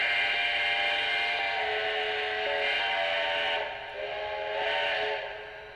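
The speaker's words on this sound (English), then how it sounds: "let's go ahead and listen to the whistle." Default whistle of a Lionel Union Pacific 4-12-2 model locomotive, a sustained, close, steam-style chord sounding for several seconds with a brief dip before fading.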